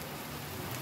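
Steady rain falls outdoors as a dense, even hiss of drops with no other sound.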